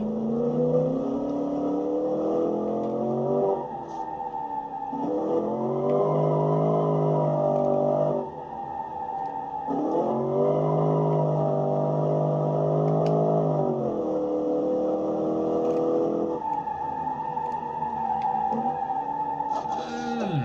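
A pony car's race engine is driven hard around a track in 2012 pony car challenge racing, repeatedly revving up and dropping back through the gears in loud, close, rising sweeps.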